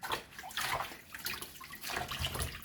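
Tap water runs and splashes as cucumbers are washed in a Jamaican kitchen, a close, uneven rushing and sloshing with no one talking.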